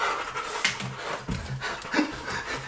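Dog panting at a cold cave entrance, quick breathy pants in an uneven rhythm, close and moderately loud, with light rustling around it.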